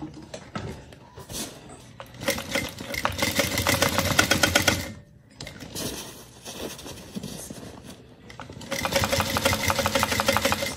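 A sewing machine stitches a bag seam in close, loud bursts of rapid mechanical clatter, stopping briefly between runs and then starting again.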